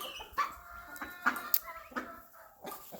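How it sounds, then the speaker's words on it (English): A black Maran hen clucks among other farmyard chickens, several short, fairly close calls scattered irregularly over a quiet yard background with no talking. "I've got one black hen that I think is a Maran"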